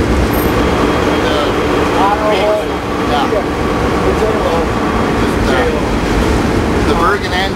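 Great Lakes freighter engine room aboard the Paul R Tregurtha, with large marine diesel engines running as a loud, constant roar and hum that fills the space, overlaid by faint mechanical whines and some voices.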